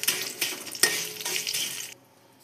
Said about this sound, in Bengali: আর এতেই দিয়ে দেবো এই কিশমিশগুলো, যেহেতু ঘি গরম আছে কিশমিশগুলো ফুলে যাবে।